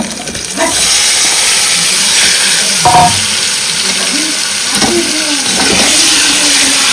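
Chopped onion sizzles steadily in hot oil in a pan for a Konkan-style chicken curry tempering, with a continuous frying hiss and a few louder stirring scrapes and bursts, close and with no talk.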